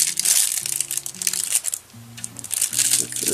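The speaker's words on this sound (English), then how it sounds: "Let's get rid of this noisy stuff. I hate this noisy plastic." Plastic packaging from a crochet kit crinkles and crumples close up in bursts of handling, with soft musical tones playing underneath.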